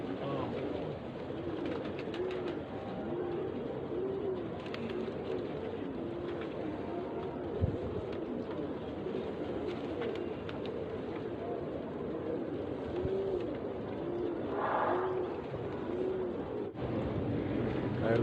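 Pigeons cooing in a loft of Egyptian ghazar pigeons: repeated soft low coos pulse steadily across a constant background rumble, with brief knocks and a faint voice at times.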